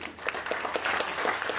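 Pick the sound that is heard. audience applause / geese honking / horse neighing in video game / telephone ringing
audience applause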